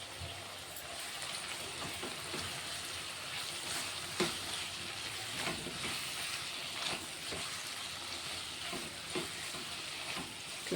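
Chili powder is stirred into curry frying in a pan, giving a steady, fairly quiet sizzle broken by soft scraping from the stirring. No one talks.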